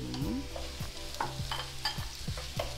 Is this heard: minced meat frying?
yes